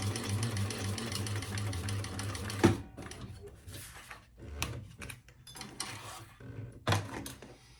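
A sewing machine back stitches a fabric bag near a card slot, first a steady run of rapid stitching, then a sharp knock followed by short, scattered stitch bursts and handling noises, close by.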